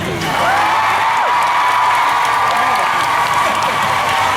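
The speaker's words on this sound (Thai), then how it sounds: "ขอเสียงปรบมือให้ฉันได้ไหม" A crowd claps and cheers continuously, with scattered whoops and shouts rising above the steady applause.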